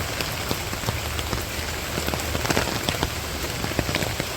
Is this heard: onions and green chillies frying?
no